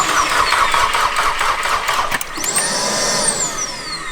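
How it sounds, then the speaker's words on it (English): VW Mk6 GTI engine running with its small secondary air pump, a loud steady mechanical whir and engine drone filling the whole stretch, with a brief dip and a rising whine partway through. "Then that secondary air pump's pretty crazy, isn't it? That small one?"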